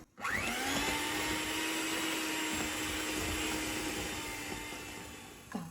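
A whisk beats sugar with egg yolks into a smooth mass for a flourless chocolate brownie, a steady whirring motor drone that holds for several seconds before cutting off.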